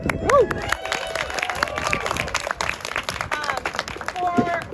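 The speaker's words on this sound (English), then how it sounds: "You can clap for them." Audience clapping for a sponsor at a community fall festival ribbon-cutting ceremony, moderate scattered applause running throughout with voices and crowd chatter mixed in.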